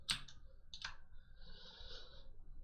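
An F3 key pressed on a computer keyboard while modelling in Blender, two quiet close clicks a fraction of a second apart, followed by a soft hiss of breath.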